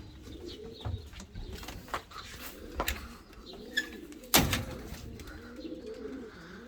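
Racing pigeons in a breeding loft coo softly and repeatedly, with low burbling calls that come and go, a few faint chirps, and one sharp nearby knock partway through.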